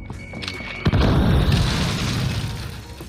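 A grenade detonates in Call of Duty Warzone: a sudden, close, heavy boom after a moment of quieter game noise. The blast's deep rumble rolls on and slowly tapers over the following seconds.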